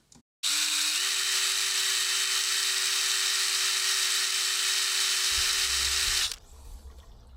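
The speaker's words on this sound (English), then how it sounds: "So I'm going to try to drill it out and keep the cap fitted" A high-pitched power drill drills out a broken stud on a Land Rover Defender, whining steadily for about six seconds at constant speed, then stops abruptly, leaving a faint low rumble.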